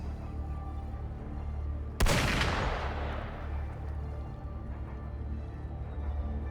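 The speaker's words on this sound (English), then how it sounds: "Gunfire! We've got intruders." A single sharp gunshot in the video game Wuthering Waves cracks out loudly and rings down into a decaying echo over a steady low ambient game hum.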